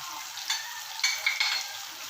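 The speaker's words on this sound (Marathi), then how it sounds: "त्याच्यामध्ये हिरवी मिरची, आलं, लसूण, कोथिंबीर ची पेस्ट करून टाकली" A paste of green chili, ginger, garlic and coriander sizzles and crackles in a hot pan, with a few brief louder bursts of frying as it is stirred; steady, close and without talk.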